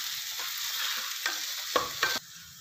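Soaked sabudana mixed with salt and lemon juice is stirred in a hot pan. It makes a soft steady sizzle under a few scraping strokes of a spoon, then the sound drops off sharply near the end.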